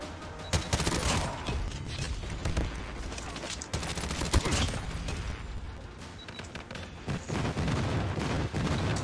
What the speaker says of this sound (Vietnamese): cluster strike